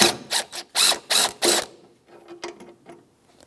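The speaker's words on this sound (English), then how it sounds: "We have two mounting bolts, one in the front, one in the back, 10mm socket, and let's remove them." A ratchet with a 10mm socket loosens the coolant reservoir mounting bolts on a 2013-2018 Toyota RAV4, making several loud, close bursts of rapid clicking, then a few fainter, slower clicks.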